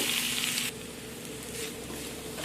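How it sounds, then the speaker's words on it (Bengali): Ginger garlic paste sizzles steadily frying in hot oil, louder at first and then settling into a soft, continuous crackle. "রসুন ভালো করে ভাজা হয়ে গিয়ে"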